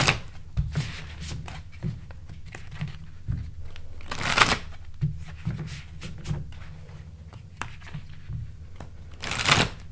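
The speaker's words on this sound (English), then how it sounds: "let's pull out some more cards and more cards" Tarot cards are shuffled and pulled from a deck in a quiet room, with repeated soft riffling bursts and papery flicks, louder shuffles around the middle and end, and small taps between them.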